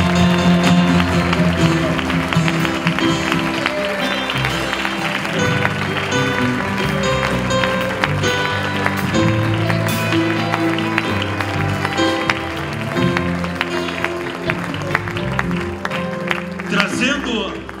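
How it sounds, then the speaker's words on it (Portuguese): A church congregation claps hard and steadily throughout, a dense, loud wash of applause blended with music and raised voices. "Vamos aplaudir ao Senhor bem forte"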